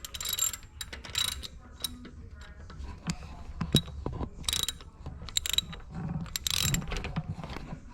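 Socket wrench ratcheting as it snugs the drain plug on a Mercury Pro XS four-stroke outboard, several bursts of quick metallic clicking with pauses between, close and moderately faint.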